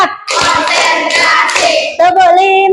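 Hands clap in time during a counted classroom clap routine in an Indonesian grade 8 science class, sharp bursts close and loud, with a voice and pitched chanting mixed in toward the end.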